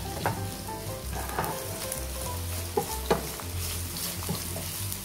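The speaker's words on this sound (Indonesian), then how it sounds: "Kita tumis bumbunya dulu, bawang merah, bawang putih sama cabenya ditumis dulu." Shallots, garlic and chili sauté in a pan with a loud, continuous sizzle close up, punctuated by several sharp spatula scrapes and clinks against the metal, with a low hum running underneath.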